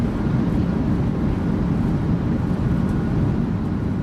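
A steady, dense roar comes from the thrust reversers of a PMDG 737 landing in MSFS2024. The noise is continuous and unbroken, with no voices over it.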